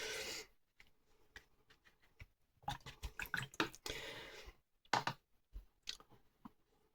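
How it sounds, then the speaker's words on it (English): A watercolour brush swished and tapped in a water jar: soft, irregular splashes, clinks and drips in a quiet room, close and faint, with brief pauses between bursts. "Rinse my brush off."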